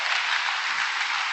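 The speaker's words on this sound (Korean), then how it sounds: "여러분 신일본 화이팅하게 격려의 박수 주시고요." An audience claps in encouragement, an even wash of many hands that stays at a constant loudness throughout.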